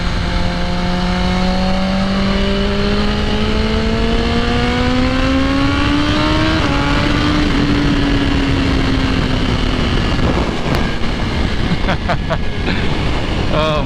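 A 2020 BMW S1000RR sport motorcycle fitted with an aftermarket exhaust, its engine loud and steady while it revs up through the gears during a ride, with strong wind rush and a sharp shift near the end.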